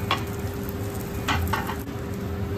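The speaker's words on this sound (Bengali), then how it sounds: "পুরো সুজিটা ঢেলে দে। ব্যাস, একটু নাড়াচাড়া করো" Semolina stirred in a hot pan for jhal suji (upma), with a few brief scraping strokes over a low, steady sizzle; no one speaks.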